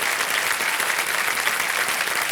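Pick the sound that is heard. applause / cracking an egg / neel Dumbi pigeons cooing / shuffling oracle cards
applause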